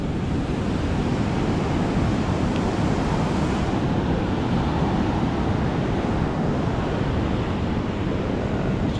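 Steady, loud roar of ocean surf breaking on shore, a continuous wash of crashing waves with wind buffeting the microphone, no voices.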